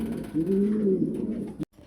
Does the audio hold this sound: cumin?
no